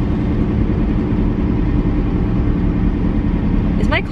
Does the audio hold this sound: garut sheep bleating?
no